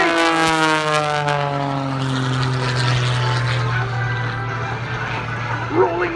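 A propeller aerobatic airplane roars steadily at an airshow while rolling and pulling hard G turns, its droning engine note sliding gradually lower as it passes, with a commentator talking over the sound.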